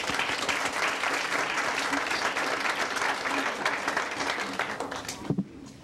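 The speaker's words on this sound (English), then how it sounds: "Want to clap?" An audience at an awards ceremony claps in a full, dense burst that holds steady for several seconds, then thins and stops abruptly, followed by a few scattered sounds.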